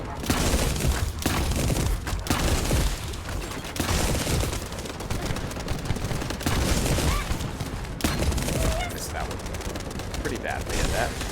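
Shotgun gunfire in the video game The First Descendant: dense, loud, nearly continuous blasts and shooting that fill the whole stretch amid busy combat noise.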